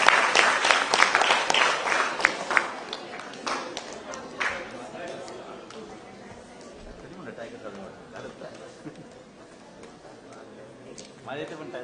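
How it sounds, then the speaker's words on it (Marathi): An audience claps loudly for a team at a gathering, the burst of applause thinning after a few seconds into scattered claps, murmuring chatter and nearby talk. "यांच्याकडे एकदा जोरदार टाळ्या वाजवा."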